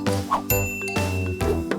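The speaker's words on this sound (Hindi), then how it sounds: "ज़ाइलोफोन पर इस तरह उछलते कूदते नहीं है।" Bright xylophone notes ring out as a cartoon character jumps on the xylophone, four separate bouncy tones at uneven intervals, each with a short clear ring, loud and close.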